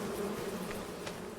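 Bees buzz around beehives on a farm in Farming Simulator 25, a steady low droning hum at moderate level that continues unbroken with no talking over it.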